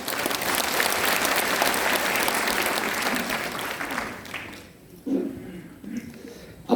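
Audience at a residents' information meeting on an apartment redevelopment applauds loudly and steadily for several seconds, then the clapping thins out and fades, leaving a quiet room with a few scattered sounds.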